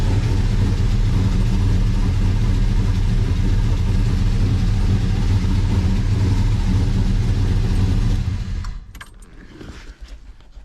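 LS-swapped 1970 Pontiac GTO engine idling roughly, a loud, heavy, uneven rumble that runs steadily for about eight seconds and then cuts off to near quiet with a few small clicks.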